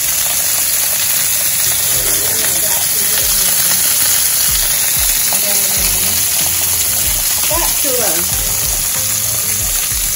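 Seafood frying in oil in a pot on a Mediterranean-style stovetop, a loud, steady close-up sizzle with crackling throughout and occasional faint stirring, with no talk heard.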